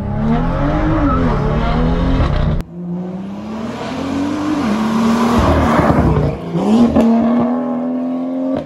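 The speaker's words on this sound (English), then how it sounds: "Let's take a listen to how a catless downpipe sounds on my BMW M2." A BMW M2 with a catless downpipe revs hard and loud through the gears, a brief cut, then more aggressive acceleration with a raspy, rising exhaust note.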